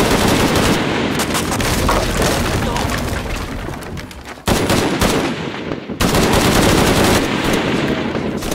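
Heavy machine gun fire in the Shadow of the Tomb Raider video game, a loud, dense stream of rapid shots with booming impacts that cuts out briefly twice before resuming.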